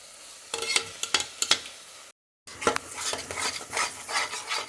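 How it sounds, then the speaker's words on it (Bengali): Ground masala paste is stirred and scraped in a pan for Chettinad chicken, with a spoon making repeated rasping strokes over a soft sizzle and a brief silent gap midway. "বেটে রাখা মশলাটা ভালো করে মিশিয়ে নেব।"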